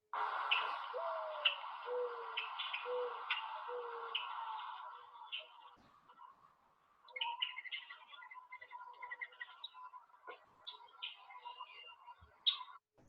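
Recorded bird song played back through the Merlin Bird ID app, a run of repeated clear whistled notes and chirps, fairly close and alone, followed by a quieter stretch of scattered calls.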